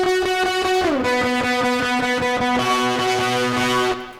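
Electric guitar played through a heavy effects pedal with reverb, a distorted, chorus-tinged tone sliding between sustained chords before cutting off at the end.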